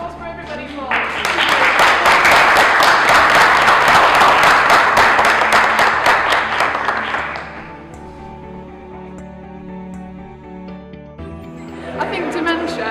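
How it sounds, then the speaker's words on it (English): A room full of audience members at a King's College London social science showcase bursts into loud, dense applause for about seven seconds, then it fades into quieter murmuring before more clapping rises near the end. "So a round of applause for everybody for."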